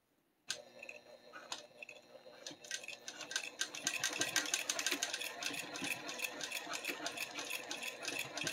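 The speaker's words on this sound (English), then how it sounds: "sew a few stitches." A sewing machine starts after a brief silence and runs a short burst of stitches, a rapid close mechanical clatter rising and holding steady until the end.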